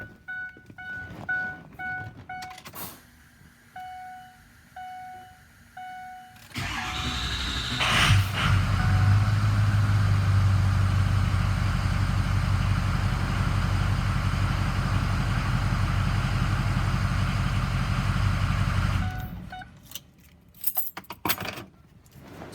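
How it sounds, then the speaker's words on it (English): Ford Excursion with a 6.0 diesel and a 6.7 starter: keys jingle and chime briefly, then the starter cranks quickly, the engine catches and idles loud and steady for about ten seconds before shutting off, followed by rattling. "So let me crank up the truck for you."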